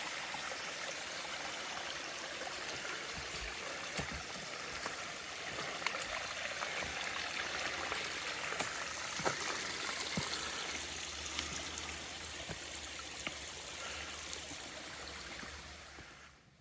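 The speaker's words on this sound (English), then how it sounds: "this is our first and maybe only water crossing" Stream water flowing steadily at a trail crossing in Willoughby State Forest, Vermont, a continuous broadband rush and trickle that stays fairly even and close throughout, with no talk over it.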